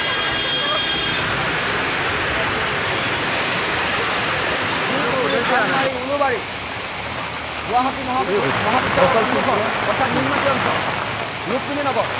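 Heavy rain and rushing floodwater on Guwahati city streets make a constant roar, with a person speaking over it in the latter half.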